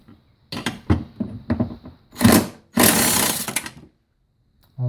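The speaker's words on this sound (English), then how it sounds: "Take out some 10 millimeter bolts in behind all your wiper motor actuators" A power tool backs out 10 mm bolts behind the wiper motor and cowl of a Toyota Prius, with several short whirring bursts followed by two longer, louder runs and then quiet.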